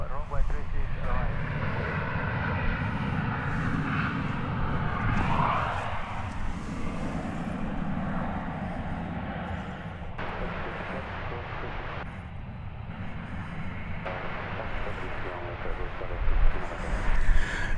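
Jet airliners roar and rumble at DFW Airport, a broad sustained engine wash that swells and shifts as aircraft move on or near the runway, heard from a spotting position with occasional voices.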